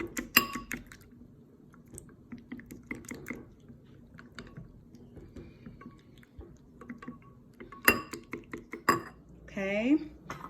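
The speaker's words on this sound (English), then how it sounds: "Switch to a whisk." A whisk beats egg whites for low-carb cloud bread in a bowl, making quick irregular tapping and clinking against the sides up close, with scattered kitchen handling noises throughout.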